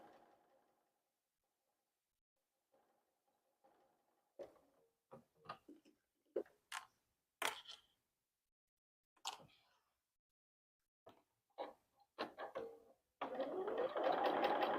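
Sewing machine running in short quiet bursts of stitching at a quilting table, faint at first, then a sustained louder run of stitching at the end, with no talking.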